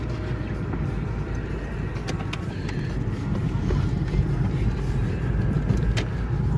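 A Renault 19 Alizé with a 1.8 110 hp engine driving along, a steady, dense engine and road drone from inside the cabin that swells slightly midway, continuous and moderately loud.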